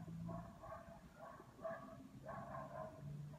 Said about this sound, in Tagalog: Nadidinig ko talaga mga aso guys.